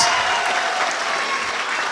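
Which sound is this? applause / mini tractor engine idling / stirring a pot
applause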